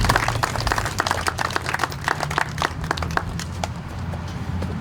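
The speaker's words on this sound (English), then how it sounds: "the troops started clapping because the sergeant major was going to talk" Troops applaud a sergeant major as he steps up to speak, a continuous crowd of crisp, overlapping claps with no talk over it.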